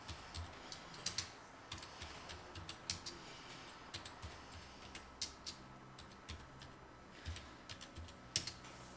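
Dates being typed into an Excel 2016 spreadsheet on a computer keyboard: soft, uneven key clicks in short bursts with pauses, close and quiet, with no talking.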